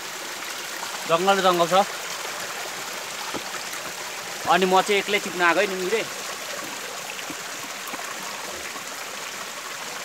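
A forest stream flows and trickles steadily in the jungle, a constant close wash of water beneath two bursts of speech from a man.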